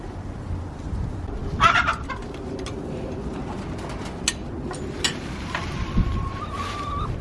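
Hens cluck in a small urban backyard chicken yard, soft scattered clucks and one short trilling call over steady outdoor background noise.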